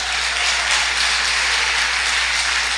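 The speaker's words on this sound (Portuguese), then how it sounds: "Você pode aplaudir o Senhor?" A church congregation at an Assembleia de Deus service applauds in a continuous, even wash of clapping throughout.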